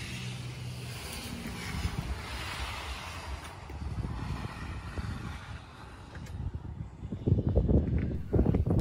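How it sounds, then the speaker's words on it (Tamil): Strong wind rushes and buffets the microphone outdoors in freezing, snowy winter weather at minus ten degrees, a steady roar with heavier low gusts growing louder toward the end. "கூடவே ரொம்ப காற்றும் அடிக்குது"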